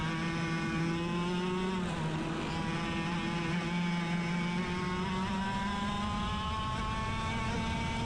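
Racing go-kart engines drone down a straightaway in a karting race final, with one close, steady high-pitched engine whine that rises slightly in pitch and holds throughout.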